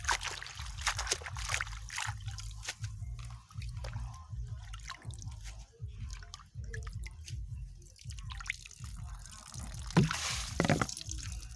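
Vegetables being washed by hand in a basin of water, with repeated splashes, drips and trickles that come in irregular bursts and a few louder sloshes near the end.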